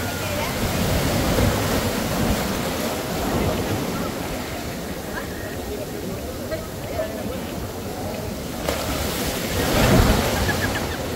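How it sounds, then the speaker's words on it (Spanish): Ocean waves surge and crash nearby on a beach amid rushing wind noise, with a louder breaking swell near the end. "Ahí está fuerte el agua, va. Las olas."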